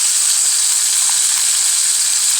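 A turkey leg for brown stew sizzles steadily in a hot frying pan, a close, continuous bright hiss of oil crackling around the meat with no pauses and no voices.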